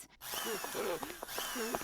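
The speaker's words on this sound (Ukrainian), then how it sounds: "Це болгарка?" An angle grinder whirs in a horror video game, a harsh mechanical buzz that starts abruptly and carries through the short moment alongside tonal, voice-like sounds.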